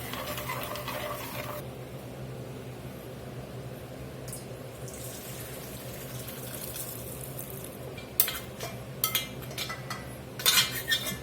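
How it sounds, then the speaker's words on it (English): Liquid sizzles and bubbles in a soup pot while beef fond is scraped from its bottom, with metallic scraping clatters in short bursts late on over a steady cooking hiss. "Get all these goodies scraped up on this pot. Definitely want to make sure we get all this fond out of this beef."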